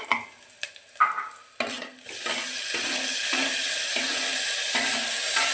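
Tomatoes go into a hot pan with a few clattering knocks and scrapes, then a loud, steady sizzle takes over and holds evenly to the end.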